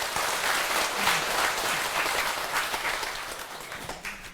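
An audience at a Korean Buddhist lecture event applauding, dense continuous clapping from a crowd that holds steady and then slowly tapers toward the end.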